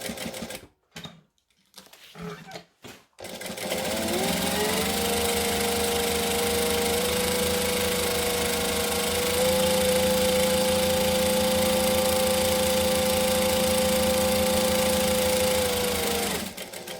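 A sewing machine runs steadily for about thirteen seconds, stitching a bag seam with a brief pause in the middle, after a few short handling sounds.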